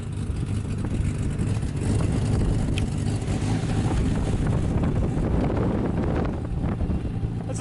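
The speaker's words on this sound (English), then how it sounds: "The wind is atrocious. We also have a storm rolling in." Strong desert wind buffets the microphone in a steady, loud roar, with low rumbling gusts and gritty blowing sand as a storm rolls in near a car at an abandoned speedway.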